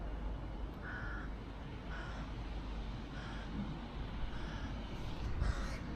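Crows caw several times at a distance over a steady outdoor rumble near Hamina. The calls are fairly faint and spaced out, and there is no talk.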